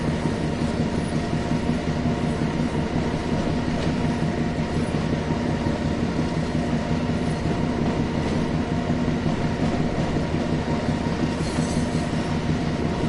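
Wagons being shunted in Train Sim World 2 give a loud, continuous rumble of rolling stock with grinding wheel noise and faint clanks, close and steady throughout.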